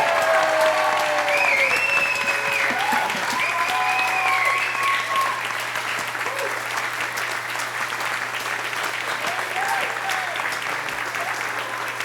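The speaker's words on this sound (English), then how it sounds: "This is a stand ovation for this young lady" Loud, sustained standing ovation for a young actress at a club show, dense clapping from a full audience with cheers and whoops rising over it, easing slightly toward the end but continuing throughout.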